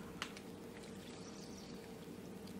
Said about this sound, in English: we're just going to pour this over